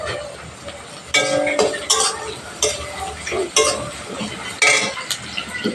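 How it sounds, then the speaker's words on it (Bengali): Onions fry with a pinch of salt in a pan for ghugni, a steady sizzle under loud, repeated scraping strokes of a spatula against the metal, close and busy. "ভালো করে পেঁয়াজটা একটু ভেজে নেব।"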